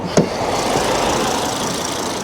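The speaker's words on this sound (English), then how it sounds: "so it's idling by the side of the road, it's up to temperature, it's in park" A Volvo V70 with an automatic gearbox idles at operating temperature in park by the roadside, giving a steady, even engine hum throughout, with one brief click near the start.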